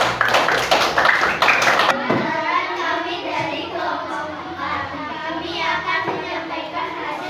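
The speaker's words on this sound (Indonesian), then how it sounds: "Tepuk tangan untuk kelompok 3." A classroom group of students claps for a presenting group during a teacher performance test lesson, a dense burst of hand claps for about two seconds that gives way to scattered children's chatter and murmuring.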